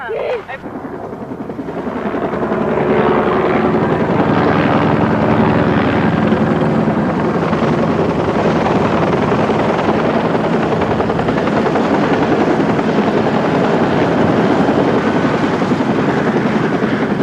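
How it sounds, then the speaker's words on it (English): A Flight for Life rescue helicopter arriving from Denver at a mountain accident scene, its rotor and turbine roar rising quickly from quiet to a loud, steady, dense wash that continues unbroken. "The Flight for Life helicopter arrived from Denver about an hour and a half after the accident."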